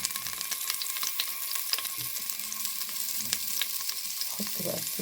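Chicken and sliced onions fry in a pan with a soft, steady sizzle and crackle, dotted with occasional stirring clinks and scrapes. No one speaks.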